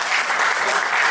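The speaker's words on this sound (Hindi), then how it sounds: "योगी जी के नाम पर तालियां बजा तो बुलडोजर आ सकता है।" An audience at a Hindi kavi sammelan poetry event in Roorkee breaks into a brief, dense burst of clapping, loud and close, with no voices over it.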